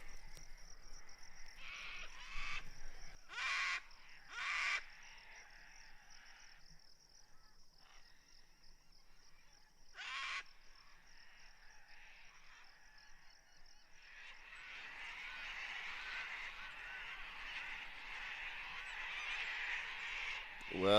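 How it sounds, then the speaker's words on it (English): Cockatoos calling around a bush campsite in eastern Australia, a few loud harsh squawks in separate bursts, then a denser rising chatter of birds and insects toward the end. "Well, the cockatoos are back at it."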